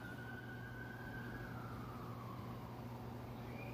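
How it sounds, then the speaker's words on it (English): Several emergency sirens wail faintly in the distance, their rising and falling tones drifting under a steady background hush. "Jeez, more than one siren."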